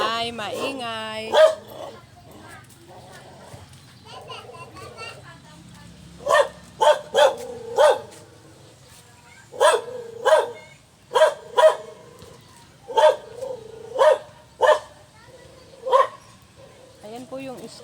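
A dog barks in a neighbourhood at home, giving a rapid run of loud, sharp barks in clusters at close range, with brief pauses between bursts and a voice heard early on.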